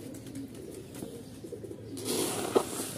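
Pigeons coo softly while they are being fed. The low, murmuring calls sit close by over a scuffling background, with a brief brighter flutter near the end.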